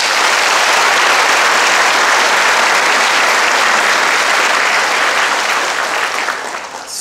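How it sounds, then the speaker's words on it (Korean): Loud, sustained applause from a hall audience welcoming the mayor of Mungyeong at a live-broadcast town meeting marking his first year in office, a dense steady roar of clapping that tapers off in the final second. "큰 박수로 맞아주시기 바랍니다"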